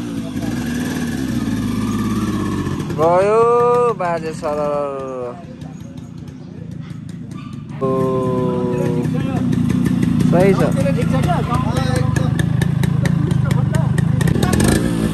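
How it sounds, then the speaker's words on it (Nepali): A Yamaha RX motorcycle engine runs steadily with an idling, throbbing rumble during a Tihar festival gathering, while people talk and voices and tones rise over the engine. "आरएक्स छ हाम्रो लेजेन्डरी बाइक"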